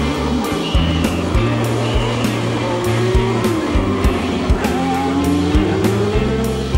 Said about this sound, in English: Michel Alboreto returns to the pits after his accident, completely unscathed